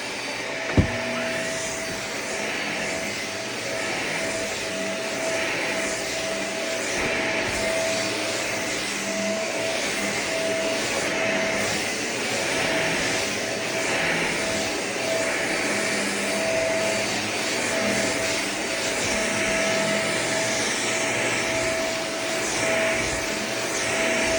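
A Shark Navigator Swivel Pro upright vacuum cleaner runs steadily on carpet, a loud continuous motor whine and airflow roar with a constant tone, close and uninterrupted.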